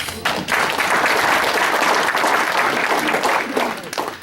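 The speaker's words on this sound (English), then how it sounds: "So I have to applaud those volunteers" An audience at an opera event applauds volunteers, a dense, steady burst of many hands clapping that swells quickly and holds loud before tapering at the end.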